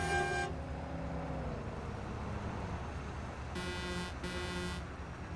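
An old truck's engine runs steadily with a low rumble throughout, while a few short high horn-like toots sound near the start and twice toward the end, with no voices.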